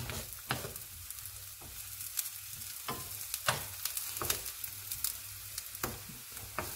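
Tofu browning in a hot pan for Filipino vegetarian adobo, a steady close sizzle broken by sharp scrapes and taps of a spatula at irregular intervals.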